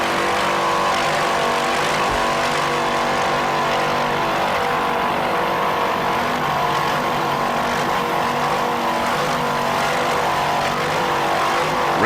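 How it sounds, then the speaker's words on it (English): Bandit-class racing inboard powerboats on Lake of the Ozarks, heard as a loud, steady, continuous engine drone with a harmonic whine that holds without a break, the boats close by and no talk over it. "Let's listen to those Bandit racing inboards."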